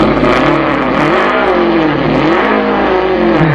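A person's mouth imitates a revving drag racing car, a continuous buzzy engine drone that rises and falls in pitch like throttle revs, loud and close with no other sound.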